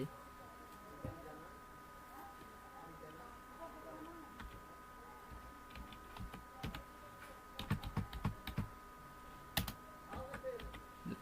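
A full name being typed on a computer keyboard, irregular bursts of close, crisp key clicks that grow busier toward the end, with a voice speaking quietly in the background.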